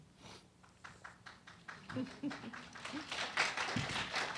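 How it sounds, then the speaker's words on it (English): Audience applause at a linguistics roundtable discussion, starting as scattered separate claps and swelling into denser clapping, with a voice speaking faintly partway through. "We have an applause from our side"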